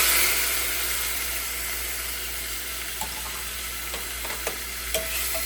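Pumpkin soup in a pot is mixed after canned pumpkin goes in, a continuous wet hiss with scattered soft scraping and knocking of the utensil, close by and without speech.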